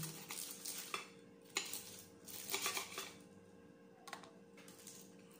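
A knife cuts through freshly fried turon, a banana spring roll, with several sharp crisp crunches spaced unevenly, close and fairly clear over a faint steady hum.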